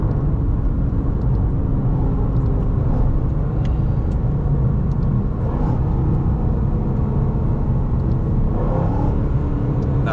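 A Roush Stage 3 Mustang fitted with a chiller roars through a test pull, a loud, steady, close engine rumble and drivetrain whir holding for the whole stretch with no voices over it.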